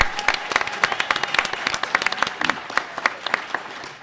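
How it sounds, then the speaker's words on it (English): Audience applause at a Democratic gubernatorial candidate forum, a dense steady run of hand claps from a crowd lasting several seconds, fairly loud and close. "Please let's give her an applause."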